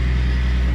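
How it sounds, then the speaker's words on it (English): Toyota Supra Mk4 with a twin plate clutch and T56 Magnum six-speed, engine idling with the car up in the air, giving a steady close low rumble with a faint rattling texture and no talk. "That is a twin plate rattle."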